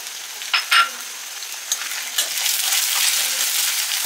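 Shrimp fries with onion in hot oil in a pan, a steady close sizzle with crackling pops that grows fuller and louder as it goes, no voices over it.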